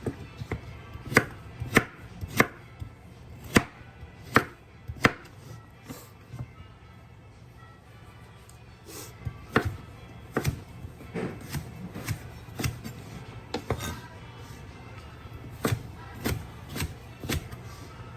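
A knife cuts diagonally through peeled food on a board, producing a series of sharp, distinct chops in a steady but uneven rhythm, with a brief pause midway, heard up close with no talking.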